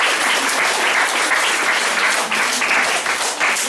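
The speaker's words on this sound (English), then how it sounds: "I think you should give a hand clap for yourselves." Steady, dense applause from an audience at a church gathering at Gbanja Camp in Liberia, a continuous wash of many hands clapping at even loudness with no voices breaking through.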